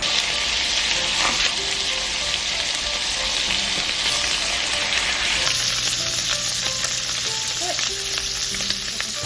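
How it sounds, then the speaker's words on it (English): Pork sizzling and frying in a pan with sesame oil for a Japanese noodle dish, a constant close crackling hiss with faint stirring and no voices. "I'm gonna put a little bit of sesame oil on the pork. We're gonna let it simmer some more."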